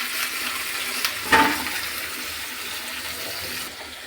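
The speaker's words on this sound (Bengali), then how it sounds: "পেঁয়াজ আর মেটে একটু ভাজবো" Onion and goat liver fry in hot oil in a pan, a steady close sizzle throughout with a sharp burst of louder hissing and clatter early on, then easing near the end.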